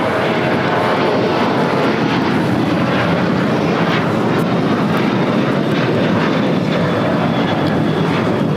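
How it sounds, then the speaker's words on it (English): A Delta Air Lines Boeing 737-800 takes off at LAX bound for Puerto Vallarta, its jet engines producing a loud, continuous broadband roar that stays steady throughout with no speech over it. "This is Delta Airlines 1865 taking off to Puerto Vallarta on a 737-800."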